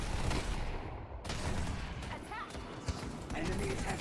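Rapid bursts of turret gunfire in the video game Deadlock, crackling steadily through a dense mix of game sounds and effects at moderate loudness.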